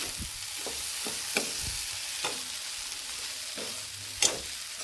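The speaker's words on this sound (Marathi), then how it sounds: "सगळं एकत्र करते, एकजीव करून टाकते, मसाल्यामध्ये फिरून घेते" Okra sizzles and fries in masala in a pan, with a steady crackling bed broken by repeated scraping knocks of a spoon stirring it, close and clear with no talk.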